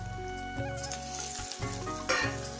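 Tomatoes go into browned onions for a mutton head curry, a loud continuous frying sizzle with brief stirring scrapes and a short dip where the pan is disturbed.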